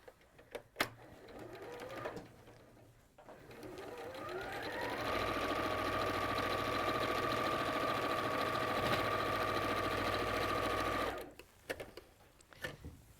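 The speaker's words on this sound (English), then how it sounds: "we'll sew along that raw edge." A sewing machine stitching along a raw edge of Liberty fabric, starting up and running at a steady fast whir for several seconds before stopping, with light handling noises before and after.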